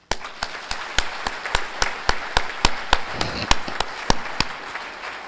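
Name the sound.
audience applause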